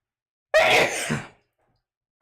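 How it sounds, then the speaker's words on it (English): A single sharp, loud sneeze bursts out close by, followed by a short breathy tail, then silence. "Even through all the sneezing,"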